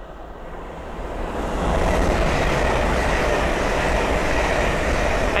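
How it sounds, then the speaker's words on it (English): A pair of Hull Trains Class 801 passenger trains rushes past at Sandy on the East Coast Main Line, a broad roaring rumble that swells within the first two seconds and then holds loud and steady, with no voices. "the next train to pass by is a pair of Hull Trains 801s from London King's Cross to Leeds."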